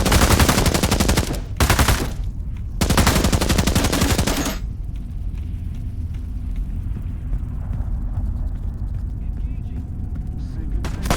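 Machine gun fire in the video game Into the Radius 2, loud sustained automatic bursts with short gaps, then a steady low rumbling ambience after the shooting stops.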